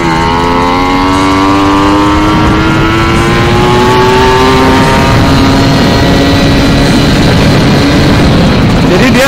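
Motorcycle engine fitted with a TM 34 carburetor revs loud and close, rising tones sweeping upward through the gears under steady engine roar across the whole stretch.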